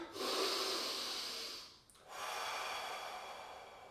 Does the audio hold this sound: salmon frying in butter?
no